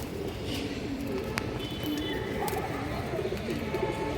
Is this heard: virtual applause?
no